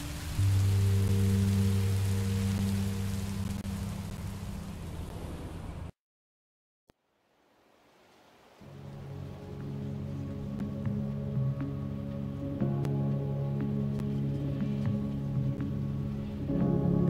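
Rain falls steadily in Minecraft: Story Mode, a dense hiss mixed with low rumbling tones; it cuts to near silence for about two seconds, then fades back in and settles into a steady downpour.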